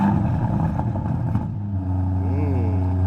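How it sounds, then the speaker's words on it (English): An Aston Martin DBX SUV engine cranks and catches, then settles into a deep, steady idle rumble on the normal setting with a brief rise in pitch. "Can we start the car please?"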